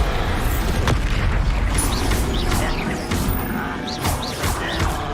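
Bombarda explosion spells cast in Hogwarts Legacy combat, a run of heavy booming blasts and crashing impacts with short bright magical whooshes, dense and loud with no speech.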